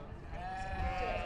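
A single sheep lets out a short, wavering bleat, fairly close, in the young handlers' show ring at the Royal Highland Show, over faint background noise.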